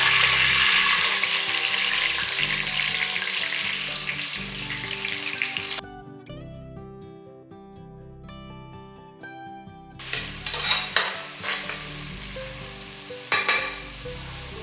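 Three large chopped onions and mint leaves fry in oil for a pressure-cooker mutton biryani, a loud, close sizzle with stirring scrapes that gives way to a few seconds of music midway, then returns with sharper clatters.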